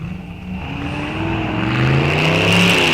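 Two small block Chevy drag cars, a 1964 El Camino and a 1933 Willys, rev at the line and launch side by side, a loud sustained engine roar that climbs in pitch and grows louder with no talk.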